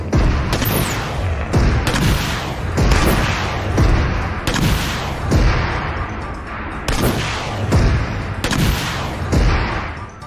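A battle royale video game plays loud, sharp gunfire bursts at regular intervals, with each heavy shot followed by a short decaying boom and no talking over it.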